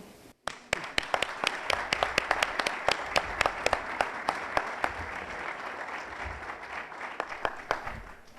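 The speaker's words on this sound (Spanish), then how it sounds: "vamos a dar un aplauso." Audience applause in a lecture hall before a talk on the Spanish protectorate in Morocco, a dense round of many hands clapping that starts abruptly and carries steadily for about eight seconds, with a few louder individual claps standing out.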